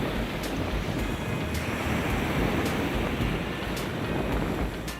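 Sea waves wash steadily onto a Maldives beach with constant broadband surf and light wind buffeting, moderately loud and continuous throughout with no voices.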